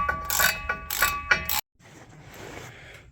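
Rapid metallic clicking of a ratchet backing out 11mm bolts from a truck drive shaft on a 1994 Chevy pickup, three close bursts of ratcheting before it falls to near silence.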